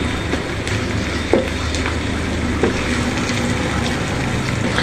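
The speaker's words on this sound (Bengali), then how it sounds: "আমি এখন আদা বাটা, জিরা বাটা, রসুন বাটা সবগুলো উপকরণ একসাথে আমি দিয়ে দিয়েছি। এখন একটু ভেজে নিব।" A paste of ground ginger, cumin and garlic fries in hot oil, giving a loud, even sizzle with occasional clacks of a spoon against the pan and no talking.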